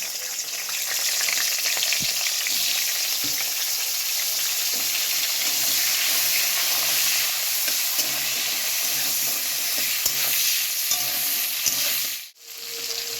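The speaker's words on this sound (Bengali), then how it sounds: "ওই মাছ ভাজার তেলে কালি জিরা ফোড়ন দিয়ে দিলাম।" Tomatoes and nigella seeds sizzle in leftover fish-frying oil for a katla fish curry, a steady loud crackling fry running throughout with occasional stirring clinks, cutting out briefly near the end.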